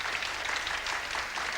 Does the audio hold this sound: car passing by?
no